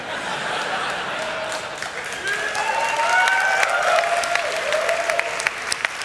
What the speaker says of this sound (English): Everybody clapping is in the back of the theater because they were late.